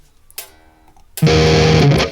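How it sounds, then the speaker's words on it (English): Electric guitar through GarageBand's American Stack Crunch distortion preset: a short plucked note, then a loud, sustained crunchy chord ringing for about a second before cutting off. "we're going to go to distortion guitar"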